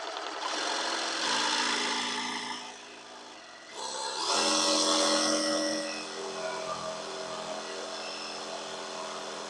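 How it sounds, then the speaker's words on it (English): A jigsaw cuts through wood with a dense, rasping buzz that runs steadily, pauses briefly, then resumes louder and keeps going close by. "I'm using my jigsaw."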